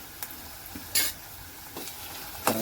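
Onion and ginger-garlic paste frying in a pan for egg biryani make a soft, steady sizzle. Several sharp scrapes and clinks from a spoon stirring against the pan break through it.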